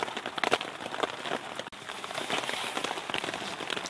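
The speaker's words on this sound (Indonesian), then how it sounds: "Cuaca masih hujan, makanya masaknya di dalam tenda aja." Rain patters steadily on a tent on Mount Sumbing in Indonesia, a dense close drumming with scattered louder drops and no talk.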